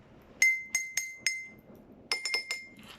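A glass with a little water in it is tapped in two quick runs of four, each strike giving a clear, bright ringing clink, close and fairly gentle.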